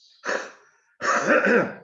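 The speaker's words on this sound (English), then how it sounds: "Clear your throat." Deliberate throat clearing during a lung purification breathing exercise: two close, rough, forceful bursts separated by a short pause.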